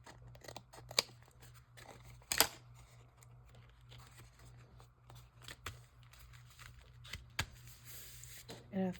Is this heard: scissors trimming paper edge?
yes